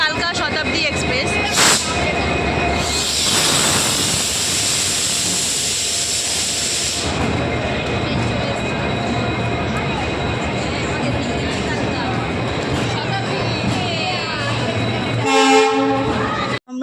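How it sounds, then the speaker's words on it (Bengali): The Delhi–Kalka Shatabdi Express (12011) pulls into a station platform with a loud, steady rumble and hiss from the train, and a sharp horn-like burst near the end. "এখন ঢুকছে শতাব্দী এক্সপ্রেস, দিল্লি কালকা শতাব্দী এক্সপ্রেস।"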